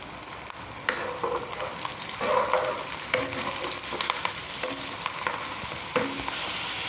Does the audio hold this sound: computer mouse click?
no